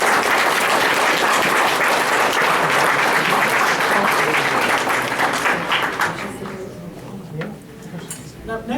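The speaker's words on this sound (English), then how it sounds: "Big round of applause." Sustained, dense applause from a comic-con cosplay contest audience rolls on for several seconds, then thins into scattered clapping with a few voices.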